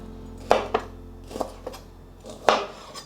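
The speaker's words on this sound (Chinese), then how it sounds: "切成不規則的塊狀" Yellow bell pepper being cut into irregular chunks with a knife on a board, about six separate thuds spaced unevenly and heard close with a faint background hum.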